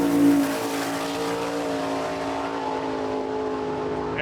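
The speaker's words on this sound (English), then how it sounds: "Here goes Steve Carson's Nova." A 1968 Chevy Nova drag race car with a 540 engine, making a single pass at a drag strip, gives a loud, sustained engine roar as it launches, the tone holding steady and then fading slightly.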